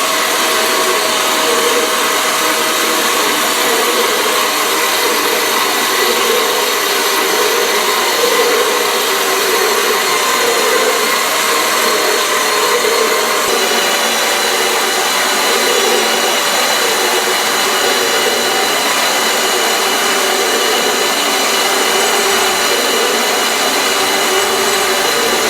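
A machine cuts a groove in a ring with repeated passes and a skim cut, producing a loud, steady high-pitched whine and hiss that continues without a break throughout.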